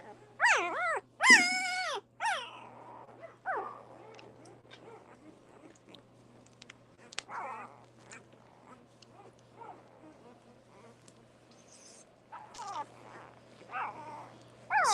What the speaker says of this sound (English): Puppies making a little bit of noise today.